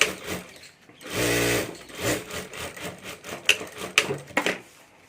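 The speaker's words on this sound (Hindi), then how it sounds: "और अब यहाँ हमें सिलाई कर देनी है।" A sewing machine stitching a handbag whirs in one brief, loud run, followed by light clicks and handling noises from the work.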